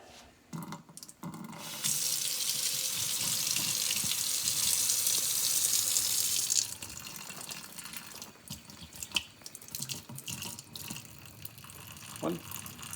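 Water running from a kitchen tap while measuring cold water for cooking, a steady broad hiss lasting several seconds before cutting off, close by, followed by light clatter and faint sink sounds.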